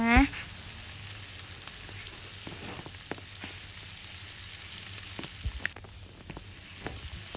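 Pad thai fries in a Roblox Thai restaurant game, a loud, steady sizzling effect with occasional stirring clicks, opened by a brief rising chime.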